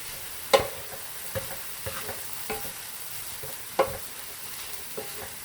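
Spices being stirred into a vegan bitter melon (goya chanpuru) stir-fry, a low sizzle under intermittent spatula scrapes and knocks, two louder clacks standing out, no one speaking.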